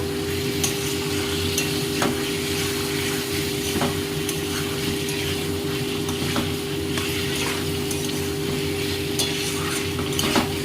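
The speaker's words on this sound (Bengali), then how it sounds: "আলুটা আমি দিয়ে দিয়েছি দিয়ে ভালো করে আমি নাড়াচাড়া করে নেব" Potatoes are stirred and fried in a pan for dahi aloo dum, giving a continuous sizzle with scattered scraping and clinking of the spoon against the pan throughout, with no voices.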